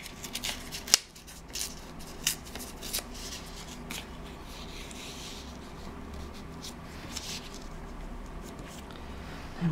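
Paper scraps torn by hand while making bird-themed journal cards, with a sharp rip near the start and then soft, intermittent tearing and rustling at close range, without talk.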